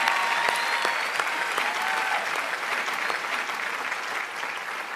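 Sustained audience applause fills a comedy awards show hall, a dense, even wash of clapping from a large crowd that holds steady for the whole stretch, with a few faint sustained tones beneath.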